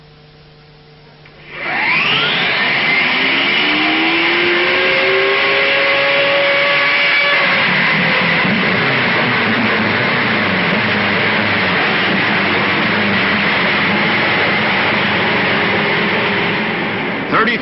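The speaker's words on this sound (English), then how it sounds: "gentlemen, start your engines" Race car engines at the 1955 Indianapolis 500 fire up and rev together, a loud sustained roar that swells from near silence and stays steady, with rising engine tones early on.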